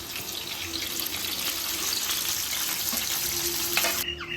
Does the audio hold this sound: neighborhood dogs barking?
no